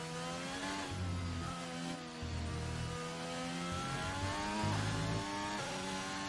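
Simulated Formula 1 race car from the F1 23 video game, its engine note loud and continuous with rising and falling pitch as it shifts down through the gears, with no voices over it.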